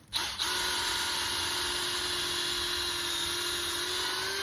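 A power drill bores about an inch and a half into a maple tree for tapping syrup outdoors, a steady high-pitched whine that starts abruptly and holds evenly throughout, close and fairly loud.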